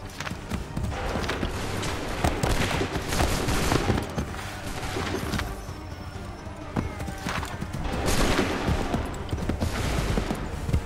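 Musket volleys in Assassin's Creed III Remastered, sharp cracking bursts amid a chaotic battle with horses clip-clopping and shouted commands.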